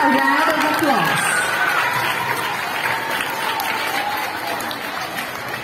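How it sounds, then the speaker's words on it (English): An audience at a school talent festival program giving a round of applause, dense sustained clapping from a large crowd that slowly fades, with some cheering and voices blended in. "Let us give them a round of applause"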